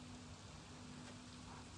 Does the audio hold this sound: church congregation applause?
no